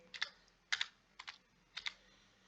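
Typing on a computer keyboard while entering a ledger name in Tally ERP 9, with four short bursts of crisp, close key clicks separated by brief pauses in a quiet room.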